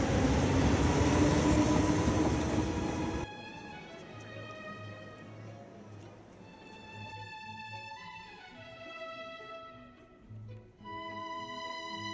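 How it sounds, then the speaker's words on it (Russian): A loud rumbling train roar fades abruptly as a train departs for La Spezia, leaving quieter rail ambience with sustained tonal hums and a low drone at an Italian station. "Поезд поехал в Ла-Специя"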